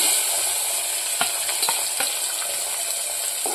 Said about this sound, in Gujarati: હવે આપણે આ ડુંગળી નાખી દઈશું.